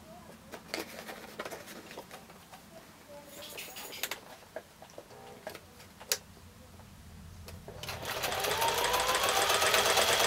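A sewing machine stitches a foundation-pieced quilt block, starting with scattered ticks and clicks of positioning, then running in a steady fast mechanical whir over the last few seconds, close and moderately loud.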